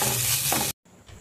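Vegetables and tomato sauce fry in a pan while egg noodles are prepared, giving a loud, steady sizzle that cuts off abruptly, followed by a quieter, fainter crackle after a brief pause.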